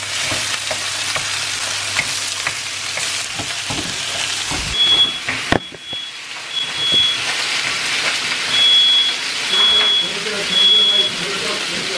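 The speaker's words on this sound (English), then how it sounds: "Mom is frying the beef. So you just gotta fry it until it's brown from the outside." Beef browning in a home cooking pan gives a loud, steady sizzle and crackle throughout, with a few sharp clanks partway through and faint talk beneath.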